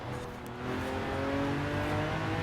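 A Lamborghini Aventador in Forza Horizon 4, with an exhaust system like the Performante's, drones in a steady, loud engine and exhaust tone that rises slightly and holds. No voices are heard.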